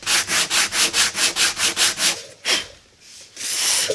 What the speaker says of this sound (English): I don't know if you've ever done any kind of block sanding